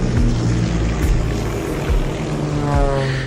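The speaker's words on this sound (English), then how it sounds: "all-American hero named Virgil Gus Grissom, who almost drowned when recovery helicopters were unable to lift his space capsule from the sea." Recovery helicopters lifting a space capsule from the sea: loud, steady rotor and engine drone throughout, with shifting low throbbing pulses.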